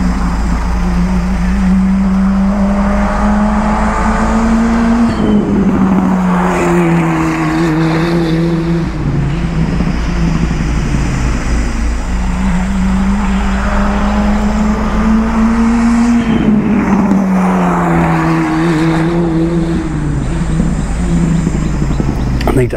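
An ex Red Bull Formula 4 race car circles a track in Pattaya, Thailand, its engine droning loudly and steadily, with pitch rising through the gears and dropping on lifts in repeated cycles, while voices talk over it.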